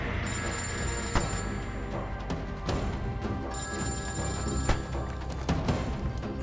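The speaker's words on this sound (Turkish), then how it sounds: "Beyim, telefonun çalıyor." A telephone rings repeatedly in bursts with a bright electronic trill, separated by short pauses, against a quiet room background.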